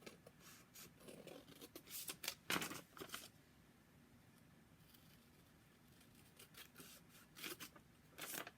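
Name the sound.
scissors cutting along the edge of an envelope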